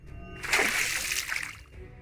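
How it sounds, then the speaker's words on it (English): A water spell in a game releases a jet of water from a hand as a sudden loud rushing splash that swells, holds for about a second, then fades into a softer trickle. "A jet of water bursts out of Commander's hand."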